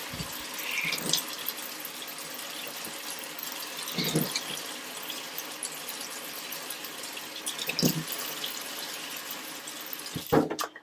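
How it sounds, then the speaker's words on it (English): Tap water running onto hands to wet the rim of a pudding basin for a steak and kidney pudding, a steady faint splashing stream with a few louder spatters spaced through it. "we're going to run along the top of this with some water, just some water on my hands"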